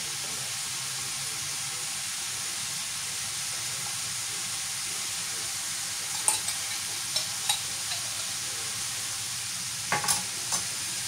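Vegetables sizzle steadily in a frying pan as mustard is stirred in, a constant frying hiss with a few sharp clicks of the spoon scraping the pan near the end.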